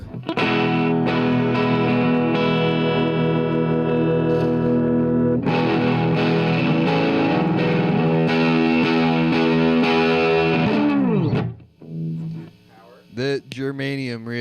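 An electric guitar through a germanium boost pedal rings out with a boosted, slightly driven tone, sustained chords changing a couple of times before the notes bend and fade.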